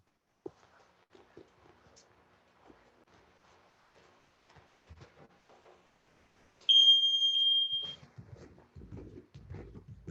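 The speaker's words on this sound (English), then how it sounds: "I'm going to start the timer and we'll begin." During a youth Brazilian jiu-jitsu warm-up, a workout timer gives one sustained, loud electronic beep lasting over a second. Soft shuffling and footsteps come before it, and low thumps of movement follow.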